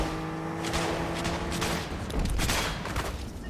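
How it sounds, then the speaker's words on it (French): In a video game, rapid bursts of gunfire crackle and rattle across several seconds, dense and continuous over a low humming tone. "Ok, ça tire."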